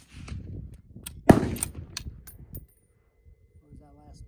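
A single suppressed .308 rifle shot through a Thunder Beast Gen2 Ultra 7 suppressor on a 20-inch barrel, one sharp muffled crack with a brief ringing tail, set between bits of nearby talk and handling noise outdoors.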